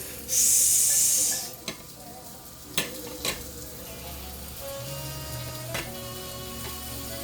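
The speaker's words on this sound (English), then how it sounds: "See how my sausage is going on and it's making that sizzling noise?" Kielbasa sausage sizzling on a hot griddle, a steady crackling hiss with a few clicks and taps, close up and no talking.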